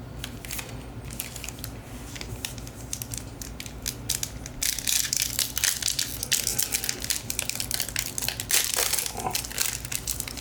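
A Marvel Flair trading card pack's wrapper torn and crinkled open by hand, a close run of crackling, crunching plastic rustles that grow busier and louder through the second half, with no talking.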